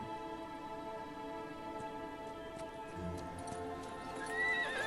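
A horse named Rampage whinnies over steady background music in Darksiders 3, with hoof clops and a rising neigh near the end.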